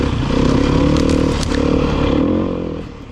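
A Beta 390 RR-S four-stroke dirt bike engine revs while being ridden, giving a loud, close, steady mid-range drone with a brief dip before the tone falls away near the end.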